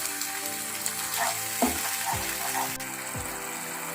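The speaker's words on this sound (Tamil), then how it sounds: "இப்போ இந்த ப்ரான்ஸ் கொஞ்சம் கலர் வர வரைக்கும் கொஞ்சம் நம்ம வேக கிண்டி விடுவோம்." Prawns stirred as they fry in a pan for a basil pepper prawn dish, a constant close sizzle broken by scraping and clanking strokes of a spatula.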